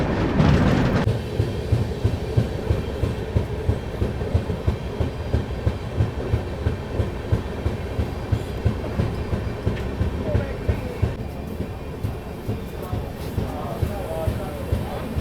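The Jhelum Express rolls slowly through dense fog, its wheels clacking over rail joints in a steady rhythm beneath a constant rumble, while a person talks over it.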